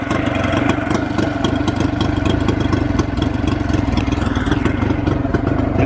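A motor engine idles steadily while warming up, a continuous close rumble with a fine clattering texture and no change in speed.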